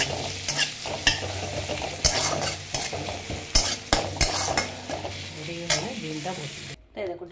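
Onion tempering for red lentil (masoor) dal sizzles loudly in hot oil alongside fried dry red chilli, with bursts of crackling and stirring scrapes throughout and a brief silence near the end.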